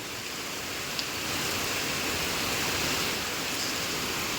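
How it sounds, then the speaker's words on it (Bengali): Heavy rain falls continuously as a dense, even, broadband hiss with no pauses, loud and close, without any talking. "এই এত পরিমাণে বৃষ্টি হচ্ছে আজকে"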